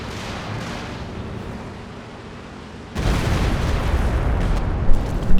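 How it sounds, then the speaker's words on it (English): Stuka dive bomber barrage in Company of Heroes 2, a dense rumbling wash of explosions that jumps sharply louder midway and keeps pounding, with a few sharper bursts near the end. "Pretty decent Stuka barrage"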